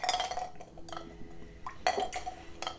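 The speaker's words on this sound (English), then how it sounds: "Clink them a drink." Glasses clinking together in a toast over a pour of Writer's Tears Irish whiskey, a few light, bright clinks close by with quiet handling sounds between them.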